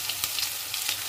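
Garlic paste hits hot oil with cumin, producing a dense hissing sizzle with a few quick stirring pulses, close and brief, no voices.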